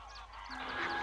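A brief, faint honking call rises from ducks in the Doñana marshes at the end of winter, carrying over open wetland at a distance.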